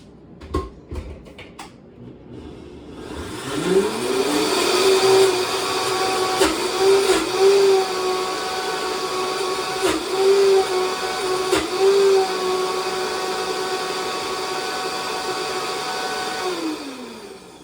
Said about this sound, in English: I'm just going to put the lid on and blend it up